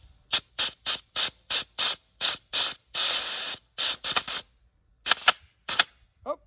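A grease gun lubes a fitting on an LS MT240e tractor, making about a dozen sharp, hissing squirts in a quick, fairly regular rhythm, close and loud, with one longer burst partway through.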